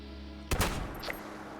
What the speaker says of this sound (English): We have to get a little closer because of the shotgun.